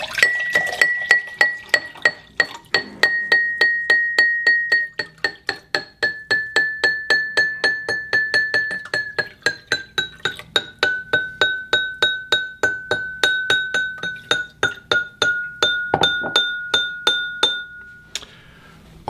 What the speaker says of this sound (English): When I put water into this glass, it's going to change the pitch of it.